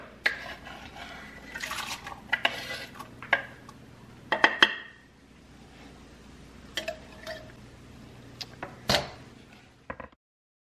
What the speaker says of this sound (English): I'm gonna get rid of some of these onions into the crock pot.